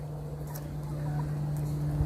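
Faint, scattered clucking from free-range village chickens over a low steady hum and quiet background noise.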